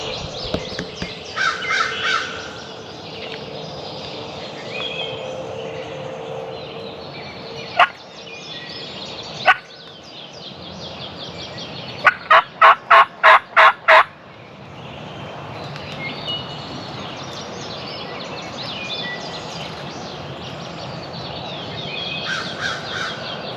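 A wild turkey gobbles in open country during a hunt, with several sharp calls at moderate distance, including a quick burst of repeated gobbles near the middle, over quiet outdoor background.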